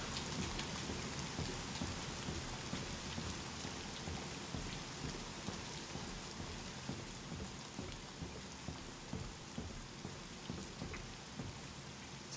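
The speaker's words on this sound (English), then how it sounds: "Oh, gotta love the rain." Steady rain falls in a dense, even hiss of drops on surfaces, loud and close throughout with no voices.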